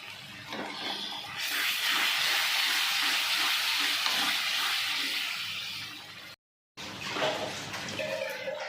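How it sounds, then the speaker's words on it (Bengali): Spice paste for fish biryani sizzles and fries steadily in a pan with faint stirring scrapes, a continuous close hiss that briefly cuts out before resuming. "মশলাটা ভালো করে কষিয়ে নিচ্ছি"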